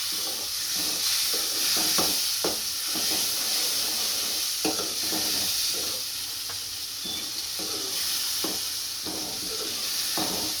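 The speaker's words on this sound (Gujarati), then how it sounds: "હવે મસાલા વાળે ગ્રેવી નાખી દઈશું અને ફેરવી" Masala gravy stirred into cooked onions in a pan, a constant soft sizzle beneath repeated spoon scrapes and light taps at an uneven rhythm, no talking.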